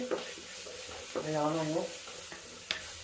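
Crushed onion and garlic fry in a pan while a spoon stirs them, a close sizzle broken by scraping strokes and clinks, with a brief tonal hum midway.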